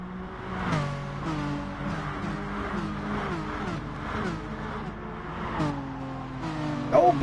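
Race cars in Gran Turismo Sport take a rolling start on Tokyo Expressway South Outer, engines droning and repeatedly shifting up and revving in a dense overlapping pack, loud and close, with a faint voice underneath.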